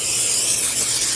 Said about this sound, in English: I'm gonna give this a squirt of some nonstick cooking spray.